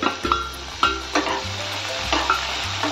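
Chopped tomato hits hot oil with onion and garlic for street-style anda ghotala, giving a steady close sizzle broken by three or four loud scraping stirs of a spoon in the pan.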